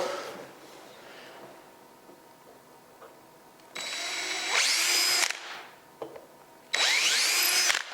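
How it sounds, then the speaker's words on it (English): A power drill whirs in two bursts, each spinning up loudly with a rising whine as it bites into wood drilling pilot holes for a cabinet, separated by a short pause and quieter handling. "And then I'll just take a pilot drill."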